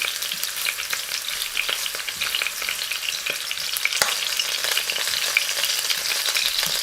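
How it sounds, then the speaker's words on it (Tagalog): Ginger frying in a pan gives a close, continuous crackling sizzle with dense spitting pops throughout, plus an occasional sharp utensil tap. "Lutuin muna natin ang ginger."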